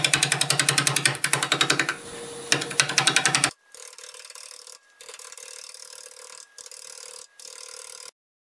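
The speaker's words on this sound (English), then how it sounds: "We'll start with a 5/8 sweat back fold gouge and just start to" A plum crotch bowl with live edge spins on a lathe near 650 RPM while a 5/8 swept-back bowl gouge cuts it, giving a rapid ratcheting chatter that breaks into steady, close cutting passes separated by brief pauses.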